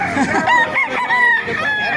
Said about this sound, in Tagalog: Nakakalapit pala yung manok na yun, oh.